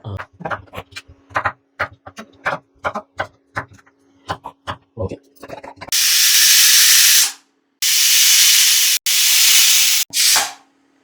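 A pressure cooker cooking koottu curry with yam whistles in long, loud, hissing bursts of escaping steam, four blasts with short gaps between them, preceded by a run of rhythmic chopping knocks.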